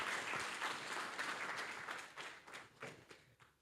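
Audience at a legal seminar applauds, a continuous wash of many hands clapping at a fair distance, fading slightly toward the end with a few separate claps standing out.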